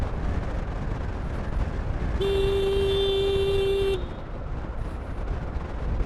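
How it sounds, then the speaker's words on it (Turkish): A single steady car horn blares for almost two seconds over a constant low road rumble. "Hiç acımam basarım kornayı valla"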